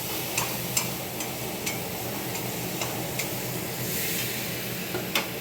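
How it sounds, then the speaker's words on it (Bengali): Spices and potatoes fry in a pan for a paneer curry, a soft steady sizzle with light ticking clicks and occasional stirring taps, fairly quiet and close. "এই যে পনির আলুর জন্য মশলাটা ভাজা হয়ে গেছে, এবার আলুটা দিয়ে দেবো।"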